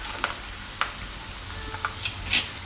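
Ingredients for Gujarati kela pava (banana poha) cook in a pan until browned, giving a steady soft sizzle broken by a few light stirring scrapes; no one speaks.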